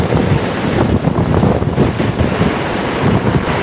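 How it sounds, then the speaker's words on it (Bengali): Roaring floodwater of the Damodar river released through the Durgapur barrage, a loud continuous broadband rush mixed with heavy wind buffeting the microphone, with no break throughout. "শুধু জলের গর্জন"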